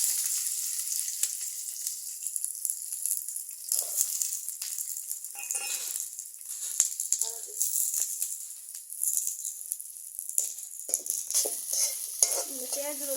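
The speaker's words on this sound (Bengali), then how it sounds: "পেঁয়াজ রসুন আদা প্রায় ভাজা হয়ে গেছে" Onion, garlic and ginger frying in oil in a pan for a Bengali fish-tail bharta dish, with a steady bright sizzle and repeated scrapes of stirring, some clicks of the utensil against the pan, close and moderately loud.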